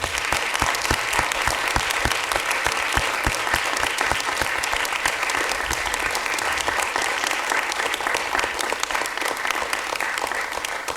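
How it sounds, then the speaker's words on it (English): An audience applauds moot court teams at a finals event, with steady dense clapping from a sizeable crowd sustained for the whole stretch at even loudness. "let's get a round of applause for both teams."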